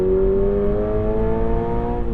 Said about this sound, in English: let me drop down a gear again, maybe 2, because it's fun.